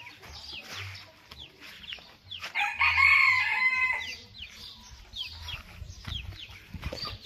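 A black crested rooster crows loudly and close in one long call near the middle, with shorter clucks and other fowl calling around it in a farmyard flock.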